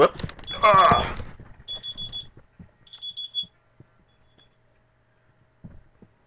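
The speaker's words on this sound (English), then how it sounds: "That's my alarm to say get up and start getting ready for work." A person talks while short bursts of high electronic beeping sound in a few clustered pulses, then quiet with faint movement.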